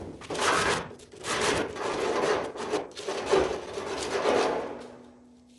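A cut piece of wood for a homemade ice-fishing jaw jacker is sanded by hand in close, loud rasping strokes. About five rhythmic back-and-forth passes come in a row, each a broad scratchy swell.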